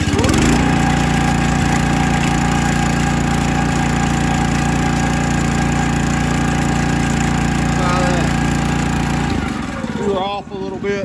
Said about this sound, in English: we want to adjust our throttle since we've had that cable out.